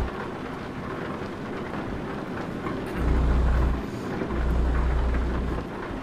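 Heavy rain and rolling thunder in American Truck Simulator during nighttime driving, a constant dense patter with two deep low rumbles swelling in the second half, steady and fairly loud with no talk.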